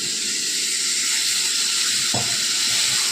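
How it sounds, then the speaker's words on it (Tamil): Water poured into a hot pan of egg gravy with curry leaves sizzles as a loud, steady hiss that runs the whole time, with a brief soft thump partway through. "கொஞ்சமாக தண்ணி ஊற்றிக்கிறேன்."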